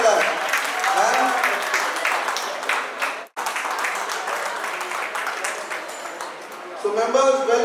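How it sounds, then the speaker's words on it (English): Applause fills the room at a BNI business event as guests of honor take center stage: dense, continuous clapping that breaks off briefly midway, then resumes, with a voice and tonal sound rising near the end. "Can we have a big round of applause?"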